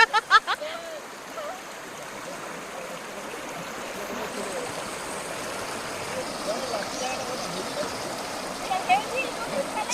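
A river flows and babbles steadily at a scenic rural spot with cattle and goats nearby, a continuous watery wash with a few louder splashes at the start, voices faintly mixed in.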